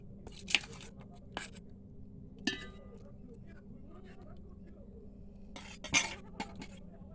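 Chicken being layered into a biryani pot, with a few sharp metal utensil clinks and scrapes spaced apart over a quiet kitchen background.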